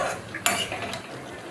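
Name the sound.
stirring mixed vegetables in a pan with a spatula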